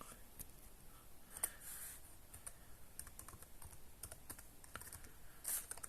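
A password being typed on a computer keyboard, quiet rapid clicking keystrokes in an irregular stream with a few slightly louder taps, close and alone without talk.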